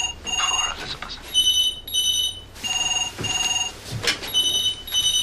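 Several telephones ring in bursts of a bright electronic trill, starting and stopping in overlapping patterns. Quieter rustling and brief sounds fill the gaps between rings.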